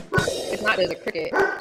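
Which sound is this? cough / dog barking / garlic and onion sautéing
dog barking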